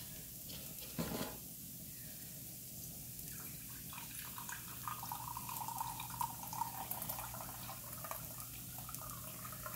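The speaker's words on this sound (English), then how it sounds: "Some broth in here, beef broth." Beef broth poured into a pan for a shepherd's or cottage pie, giving a steady watery trickle and faint hiss that runs through most of the stretch, with a low hum beneath and no talking.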